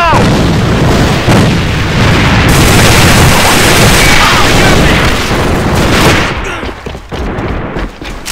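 Grenade explosions and gunfire in a video game, loud, dense booms and rattling bursts piling up for several seconds before thinning into scattered shots near the end, with game voice lines mixed in.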